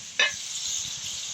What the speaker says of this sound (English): you can hear I got my sizzle back